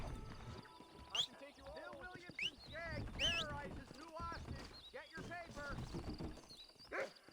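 Hooves clip-clop from a horse in the Red Dead Redemption video game, with whinnies and soft game effects, all quiet and under someone talking.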